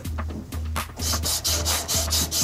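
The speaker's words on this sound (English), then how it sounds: "A little bit of sandpaper." Sandpaper rubs a plastic pipe end in quick back-and-forth strokes, about eight close, raspy scrubbing passes in a steady rhythm with no speech.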